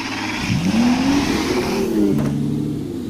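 A stolen car in a video game revs its engine hard, the pitch sweeping up and then settling into a steady drone, loud and close with no talking.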